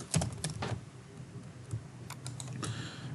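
Quick, uneven clatter of fingers typing on a computer keyboard, in bursts with short pauses, close and moderately loud, with no voices.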